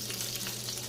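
Butter melting and sizzling in a hot pan, a close, even crackling hiss with a low steady hum underneath, brief and uninterrupted with no speech.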